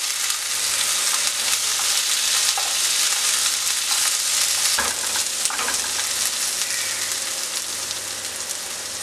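Onions and dried red chillies frying hard for a Kerala-style king fish curry make a loud, dense, continuous sizzle like steady rain, with a few scraping stirs near the end.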